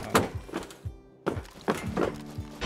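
In the DayZ video game, a door thuds shut among several dull wooden thunks, a quick series of close, knocking impacts with a brief silent gap, with no voices.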